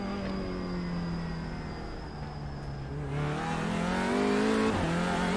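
Simulated race car in iRacing, Audi or Porsche, droning steadily then climbing in pitch as the engine revs up through a gear change, loud and close with no voices.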